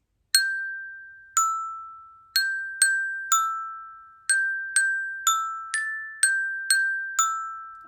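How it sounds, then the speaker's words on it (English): Bright mallet strikes on a children's xylophone play a simple tune, thirteen clear ringing notes alternating between two close pitches in an even, slightly uneven rhythm, each tone decaying before the next. "So I wanted to show you a song, and a lot of you have these xylophones"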